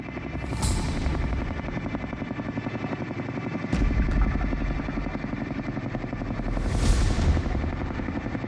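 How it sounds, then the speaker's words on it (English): A twin-engine Chinook helicopter's deep rhythmic rotor thudding pounds steadily for the whole stretch, loud and continuous, with a couple of brief sharp clicks midway. "That sound is the distinctive twin engines of the Chinook helicopter."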